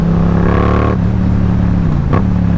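A Yamaha R7 sport motorcycle cruises on the interstate, its engine droning loudly and steadily with a shifting pitch as the rider eases off and changes gear, amid heavy wind rush.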